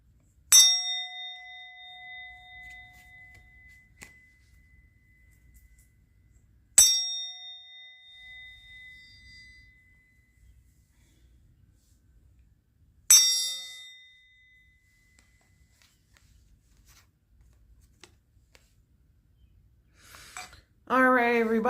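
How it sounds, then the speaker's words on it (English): A bell is struck three separate times about six seconds apart, each ring loud and clear before it slowly fades into silence. A voice begins right at the end. "I'm going to ring the bell."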